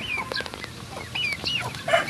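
Pet chickens cluck and chatter close by while being fed, a quick series of short, sharp calls with no talking.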